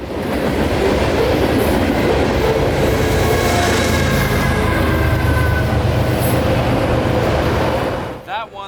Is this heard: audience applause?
no